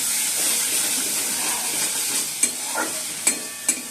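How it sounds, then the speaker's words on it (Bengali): Spice paste sautéing in a pan for a Bengali egg-and-potato dish, a steady close sizzle with soft scraping strokes and a few sharp spoon knocks near the end. "আর এদিকে মশলাটাও কষাচ্ছি"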